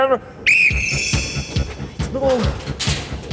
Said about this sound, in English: So I blow this little whistle.